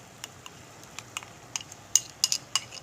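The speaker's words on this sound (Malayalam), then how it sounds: "നന്നായിട്ട് സ്പൂൺ കൊണ്ട് നന്നായിട്ട് ഇളക്കുക" A spoon stirs curd in a pot for pineapple pachadi, making light metallic clinks and taps against the rim, scattered and faint, growing a little sharper near the end.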